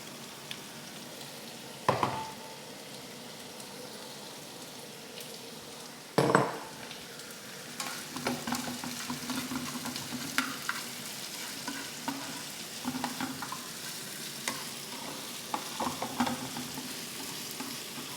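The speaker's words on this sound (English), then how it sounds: "So the onions and the red chili, they're done now. So I'm going to add the gammon, diced gammon." Diced gammon sizzles in a pan with onions and red chili, a continuous close frying hiss broken by a couple of sharp utensil clanks early on and steady scraping stirs afterward, with no speech.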